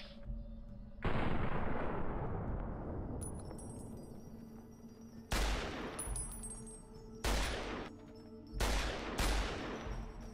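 Gunfire in Fallout: New Vegas: several loud booming shots and bursts with long decaying rumbles, separated by quieter gaps and a high ringing tone.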